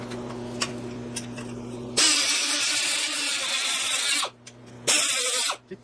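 A power tool with a steel wire brush scrubs corrosion off the wheel hub of a 2014 Infiniti QX60, in two loud bursts of abrasive whirring separated by a short pause.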